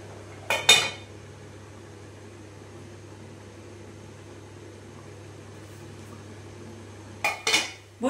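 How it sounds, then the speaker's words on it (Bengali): A metal lid set onto a pot of patal polao on a low flame, giving two brief clattering contacts several seconds apart over a steady kitchen hum. "এবারে আমি এটাকে ঢাকা দিয়ে দেবো।"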